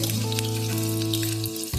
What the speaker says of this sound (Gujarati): એની અંદર એક ચમચી જેટલી આદુ લસણ અને મરચાની પેસ્ટ છે એને એડ કરીશ